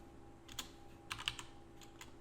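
Quiet typing on a computer keyboard gives a handful of light, irregular key clicks over a low background hum.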